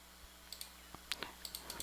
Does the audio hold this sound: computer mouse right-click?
yes